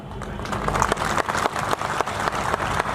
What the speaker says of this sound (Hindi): उपासकों की तालियों की गड़गड़ाहट बता रही है